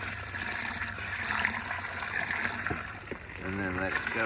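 Water pours into a bucket of soil for planting seeds, a steady close gush and trickle that runs throughout, with a voice speaking faintly underneath near the end.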